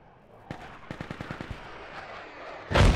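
Close rifle fire in Project Reality, a single shot followed by a rapid string of about seven evenly spaced rounds, then quiet and a loud rushing blast at the end.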